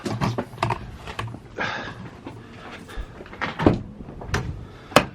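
The rear doors of a self-built camper van are handled and shut, giving several close knocks, rattles and thuds, with a sharper bang near the end.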